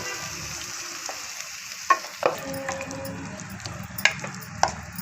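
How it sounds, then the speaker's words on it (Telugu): Prawns and cooked gongura (sorrel leaves) sizzle steadily in a pan, with a few sharp scraping clicks from a stirring spoon cutting through the constant frying hiss. "రొయ్యలు వేసి ఒకసారి ఇలా కలుపుకొని ఉడికించుకున్న గోంగూర కూడా వేస్తున్నాను"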